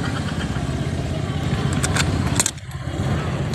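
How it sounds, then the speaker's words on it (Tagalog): A repaired motorcycle engine runs steadily at close range, its rumble dipping briefly partway through before resuming, with a few light clinks over it. "Buti gumana yung motor mo."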